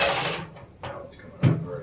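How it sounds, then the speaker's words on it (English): A small screw drops during teardown of a Sony sound system, giving a brief metallic tick and rattle against a hard surface among nearby workbench handling noise. "See, as I drop the screw,"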